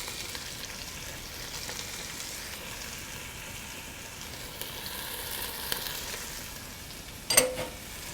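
Onions and scallions sizzle in hot oil at the start of a minestrone, a steady soft frying hiss under silence with a brief sharper crackle near the end.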